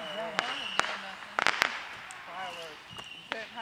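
Fireworks crack and pop outdoors at a July 4th celebration, sharp bangs scattered across the moment at a moderate distance, with people talking underneath.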